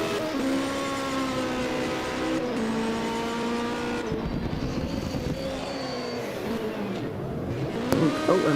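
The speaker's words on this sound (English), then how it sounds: "Oh, and there's a handbrake turn as well" Opel Ascona hill climb race car at the St. Ursanne Les Rangiers round of the European Hill Climb Championship, engine loud and near with a sustained rising and falling whine as it slides through a handbrake turn, tires squealing.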